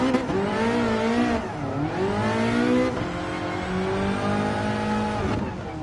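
Racing car engine in Gran Turismo Sport on a wet track, a steady loud drone rising and falling in pitch with revs and gear changes, heard alone without talk.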